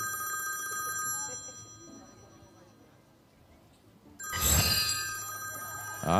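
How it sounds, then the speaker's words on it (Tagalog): A telephone bell rings in sustained, continuous bursts near the end, loud and close, after a stretch of quieter room tone with background tones. "Rogelio, telepono"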